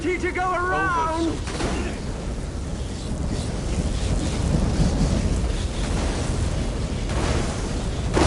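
A thunder and lightning storm rolls in the video game Elder Scrolls Online, a loud sustained rumble and roar of wind and rain across the whole stretch, with a brief vocal-like warble near the start.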